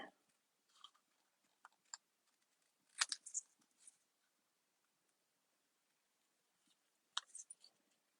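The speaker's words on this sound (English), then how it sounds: "So what I'm going to do with this is I'm just going to cut this out along that line." Paper is cut out along a line with scissors while making a birthday card, quiet crisp snips coming in small irregular clusters with pauses between them.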